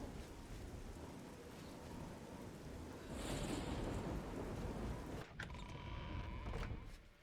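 Rain falls in the game The Elder Scrolls IV: Oblivion as a soft, steady hiss that swells into a fuller rush partway through, faint and continuous, with brief sharper sounds near the end and no talk.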